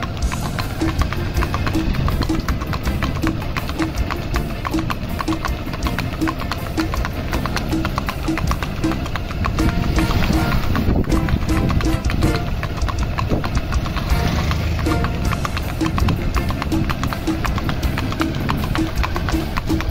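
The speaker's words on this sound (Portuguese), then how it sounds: "Mostrando que ele é o verdadeiro cavalo de patrão." A registered marcha picada stallion moves steadily with rapid, even hoofbeats throughout, loud and close, over a faint engine hum in the background with no talking.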